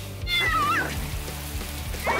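A cat meows clearly with a rising and falling cry near the start, followed by a short second call at the end, over a steady background with faint low thumps.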